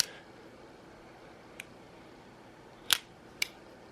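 An automatic knife being pressed and deployed gives a few crisp, sharp clicks: a faint one, then two louder snaps close together, against a quiet background.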